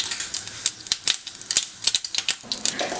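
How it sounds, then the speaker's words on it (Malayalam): Half a teaspoon of mustard seeds sputters in a tablespoon of hot coconut oil in a kadai, with rapid, irregular crisp pops and crackles close by and no talking. "ഒരു 1/2 ടീസ്പൂൺ കടുക് ഇട്ട് കൊടുത്തിട്ടുണ്ട്."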